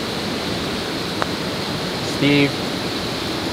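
Steady rushing waterfall at the Payne's Valley golf course in a video golf game, a continuous broadband roar filling the clip, with a brief voice spoken over it.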